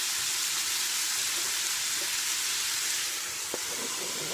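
Onion sizzling with bacon in a hot pan, a steady bright frying hiss throughout with a brief clink of a utensil near the end.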